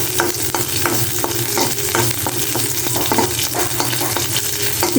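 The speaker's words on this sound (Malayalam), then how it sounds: "ഇനി ഇതിലേക്ക് ഞാനിതാ ചെറിയ ഉള്ളിയാണ് ഇട്ട് ഇട്ട് കൊടുക്കുന്നത് ഇനി ചെറുതായിട്ടൊന്ന് വഴറ്റിയെടുക്കാം" Small shallots and curry leaves fry in hot oil, a loud, close sizzle with brisk, regular scraping strokes of a spoon against the pan, several each second, and no voices.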